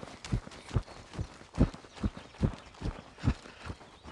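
Steady rhythmic hoofbeats of a ridden horse working voltes and shoulder-in in an arena, a regular thudding clip-clop close by with no talk.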